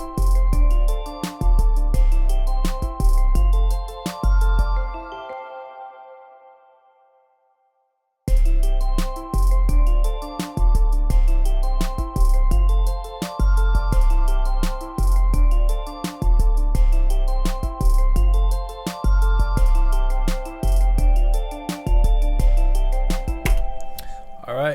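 An FL Studio beat recreation: a steady, punchy drum pattern with deep bass and layered melodic synths plays loud and alone, fades into a few seconds of silence, then slams back in at full strength until the end.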